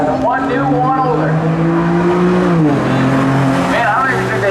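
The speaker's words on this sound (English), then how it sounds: "Couple of pickup trucks going at them." Two pickup trucks, one new and one older, racing at New Smyrna Speedway, engines roaring loudly with rising and falling revs as they pass, while a commentator talks over them.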